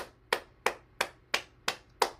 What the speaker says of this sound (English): And now we'll go back to clapping.